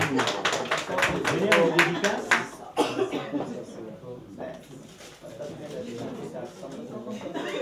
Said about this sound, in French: On applaudit pour elle, s'il vous plaît.